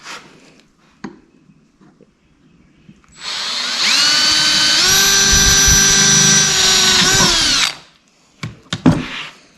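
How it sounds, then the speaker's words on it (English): Power drill boring a hole through a metal upper radiator support for an LS swap: a steady high whine of about four and a half seconds, starting and stopping abruptly, between quiet shop sounds. "we can drill one hole, we'll rivet it, then we'll drill the other four"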